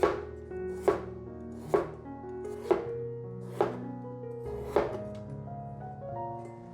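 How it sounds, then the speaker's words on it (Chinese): A knife slices a peeled potato into thin slices on a cutting board, six crisp evenly spaced chops close up, each with a brief ringing tail, no talk. "现在把马铃薯切薄片。"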